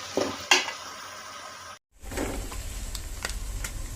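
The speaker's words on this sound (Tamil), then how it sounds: "எல்லாம் நல்லா ஃப்ரை ஆகி வரட்டும்" Biryani masala fries in a pot for a one-pot biryani made without a pressure cooker. A few spoon clinks come first, then a brief pause, then a steady close sizzle.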